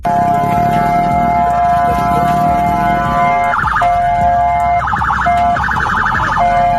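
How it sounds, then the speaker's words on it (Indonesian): A loud, close siren on a white Honda PCX police motorcycle holds a steady wail, then switches into rapid warbling bursts, with engine rumble underneath, in traffic. "Tampak polisi menggunakan motor PCX putih membunyikan sirine"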